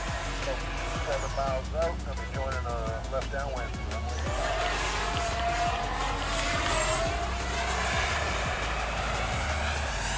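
An Arrows MiG-29 64mm RC jet pulls out of a flat spin, its fan producing a steady, loud, high whine that rises and holds as the plane passes nearby, with voices audible underneath.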